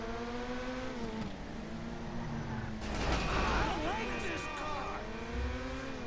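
A car in GTA 5 drives toward the impound, its engine humming with shifting revs, then a louder burst of noise and tire squeal midway before settling back to a steady drone under a voice.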